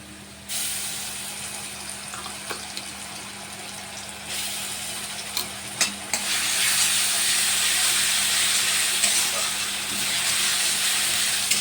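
Ginger-garlic paste and browned onion fry in oil, with a steady hissing sizzle up close that swells louder partway through. Occasional clinks of stirring punctuate it, and no one speaks.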